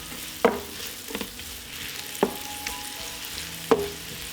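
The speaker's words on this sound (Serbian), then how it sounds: "Na istopljenom puteru propržit ću crni luk. Dodajem iseckani beli luk i sve ću zajedno propržiti." Onion and chopped garlic frying in melted butter, a low constant sizzle broken by three distinct scraping stirs spaced a second or more apart.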